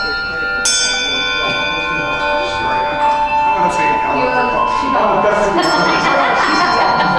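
A handbell struck with a mallet during a handbell workshop, ringing out with a bright, sustained tone that hangs and overlaps as further strikes sound over a room murmur.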